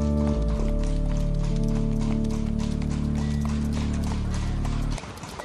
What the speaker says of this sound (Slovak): Princ dal pripraviť zlatý koč, ktorý ťahalo 5 párov bielých koní.